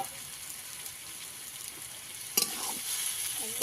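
Snake gourd being fried in a pan with grated coconut gives a steady soft sizzle with light stirring scrapes, growing louder and busier partway through, close by with no talking.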